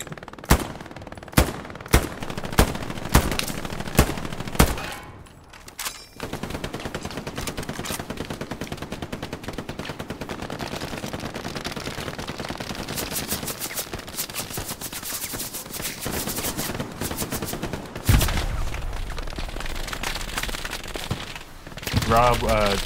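Gunfire in the World War II shooter Hell Let Loose: a run of sharp separate shots opens, then dense sustained machine-gun fire and explosions continue loud throughout, with players talking over the battle.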